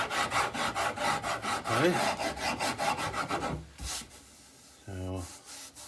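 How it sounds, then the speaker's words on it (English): A rasp shaping a wooden guitar neck, rhythmic rough rubbing strokes repeating about three times a second, close and fairly loud, then a pause; someone speaks briefly near the end. "if I feel a lump, I'll just kind of rasp it over"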